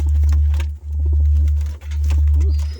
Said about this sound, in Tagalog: Yun, ay pumasok pa mga kalapatids.